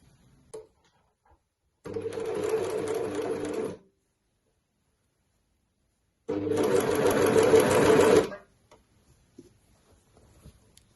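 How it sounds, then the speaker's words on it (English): An overlocker stitches a gathered sleeve seam on a Breton stripe tee in two loud, steady runs of about two and four seconds each, separated by silence, with faint handling noises around them. "So I'm now going to overlock that together and repeat exactly the same process on the other side."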